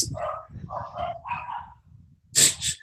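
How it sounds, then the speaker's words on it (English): Several dogs barking in the background, a run of yappy barks in quick bursts followed by a sharper, louder pair of yelps at the end, no voices. "got some dogs freaking out in the background going on"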